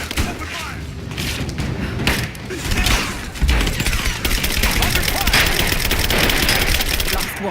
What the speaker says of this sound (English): She's hit! Open fire!